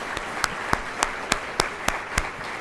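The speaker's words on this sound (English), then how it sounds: "let's give our servers a round of applause here with Polo Grill." Diners at a volunteer recognition dinner applaud the servers, with crisp, evenly spaced claps sounding over a soft bed of scattered hand-clapping from the room.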